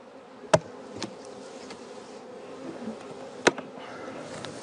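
Honey bees buzz steadily around frames of an opened beehive during a honey harvest, a dense insect hum that stays even throughout, broken by two sharp clicks or knocks.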